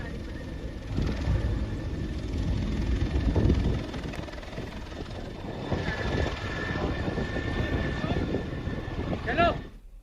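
A helicopter passes over a highway toll plaza and temple area during a pilgrimage, showering flowers on the crowd; a loud rotor and engine roar under a news narrator's talk, with wind buffeting the microphone.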